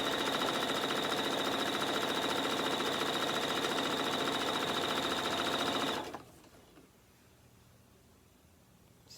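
A sewing machine stitches quilt patches at a 2.5 stitch length, droning loudly and evenly for about six seconds before stopping abruptly into quiet room noise.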